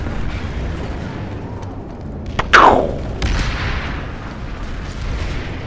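A person mimics a frag grenade blast with their voice while playing a video game: one short, loud explosive burst in the middle, with quieter game noise before and after.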